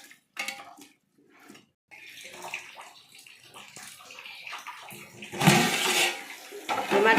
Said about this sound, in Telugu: పెరిగేసి ఇలా బాగా కలిపెట్టి ఇప్పుడు మూత వేద్దాం.